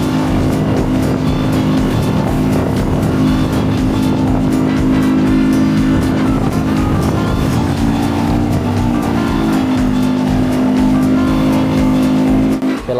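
A two-stroke 50 outboard engine on a 45-year-old Boston Whaler boat, running loud and steady at close range with a constant droning buzz and slight pitch shifts as it revs.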